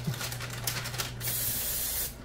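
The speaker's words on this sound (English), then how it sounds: "We're just going to spray that to hold that parchment paper down." Cooking spray hisses onto parchment paper lining a brownie pan in a short, close burst, then a second, brighter spray follows right after it, with no talking.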